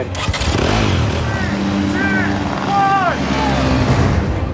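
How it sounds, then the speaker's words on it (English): Motorcycle engine revs and accelerates during a film stunt ride, a loud rough drone rising and falling in pitch in short bursts, with a voice speaking over it. "There's no speedometer, so I do it by sound and feel of the bike."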